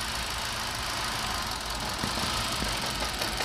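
Up close, a Hyundai Accent engine idles roughly with a misfire during an ignition coil check, giving a loud, steady mechanical drone with faint irregular knocks and shudders and no talk.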